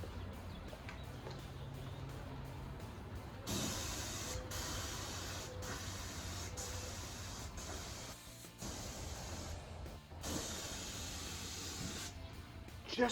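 HVLP spray gun with a paint cup spraying paint on plywood in a small paint room, a steady close hiss broken into repeated bursts as the trigger is pulled and released.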